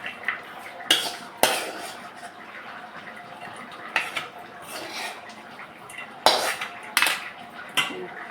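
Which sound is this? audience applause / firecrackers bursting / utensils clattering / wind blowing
utensils clattering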